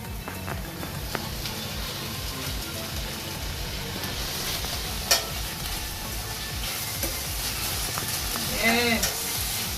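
Ackee frying in coconut oil in a pan for a Jamaican dish, a steady close sizzle with scraping stirring strokes throughout, a few louder clinks near the end.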